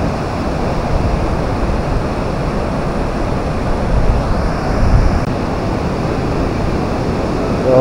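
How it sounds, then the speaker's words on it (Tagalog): Powerful rushing water at Tinuy-an Falls, a wide waterfall in Bislig City, Surigao, Philippines, roaring as a dense continuous wash close by, with some wind buffeting the microphone. "Ay, napakalakas ng tubig."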